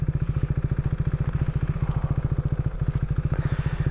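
A KTM 390 Duke single-cylinder motorcycle engine thumps steadily at a fast, even pulse while riding, loud and close throughout.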